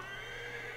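A horse in Assassin's Creed 3 gives a short, fairly quiet whinny set against a steady game backdrop, with no voices.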